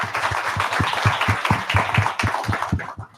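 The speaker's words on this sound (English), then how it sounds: "Can we get a round of applause?" Applause from a summit panel audience closing a health equity session, dense clapping that holds steady for about three seconds before cutting off.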